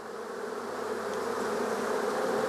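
Honeybees at an open beehive give off a steady, dense buzzing that fills the whole stretch, close and continuous with no talk.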